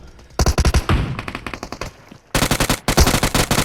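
Video game machine-gun fire in close, loud bursts of rapid regular shots, one burst early, a scattered stretch of single shots, then another sustained burst near the end.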